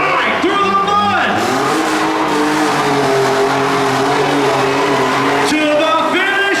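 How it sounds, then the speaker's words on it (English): At a county fair mud race, a vehicle's engine roars and revs continuously as it tears through the mud, its pitch rising and falling, loud and close, with an announcer's amplified voice over it. "wild ride through the mud"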